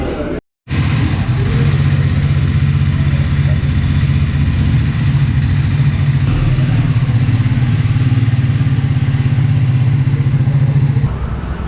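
A motorcycle engine idles close by with a steady, loud rumble after a brief pause at the start.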